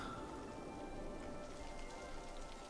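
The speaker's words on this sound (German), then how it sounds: "Ja, wenn es die ganze Zeit scheiße regnet" Steady rain in the game Cities: Skylines hisses across the whole stretch with no pauses, a dense patter of drops on a surface and a faint tonal hum underneath.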